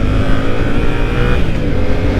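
A Yamaha MT-07 motorcycle engine revs loudly and close by, a dense, throaty growl that pulses steadily for the whole moment with no talk over it.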